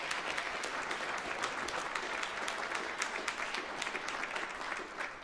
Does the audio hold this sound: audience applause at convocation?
yes